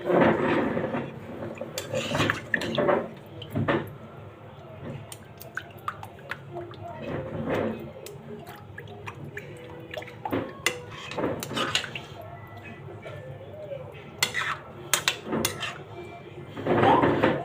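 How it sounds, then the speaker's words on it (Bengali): Strained jaggery syrup is poured into milk-soaked chitoi pitha in a home kitchen, then stirred gently. Intermittent clinks of utensils and pans and soft liquid sounds come through, with occasional talk in between. "এখন যে গুড়টা জাল করে রেখে দিছিলাম আমি ছেঁকে এর মধ্যে দিয়ে দিব এবার আবারও হালকা করে নেড়ে দেব"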